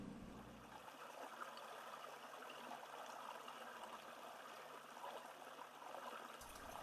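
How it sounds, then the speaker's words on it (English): Steady, quiet rush of flowing creek water with a continuous bubbling, trickling texture, no voices. "So first we're going to do a bubbling creek for you."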